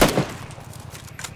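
Gunfire in a multiplayer shooter video game: a loud opening shot, then a quick, evenly spaced run of low, thudding rounds sounding close and steady.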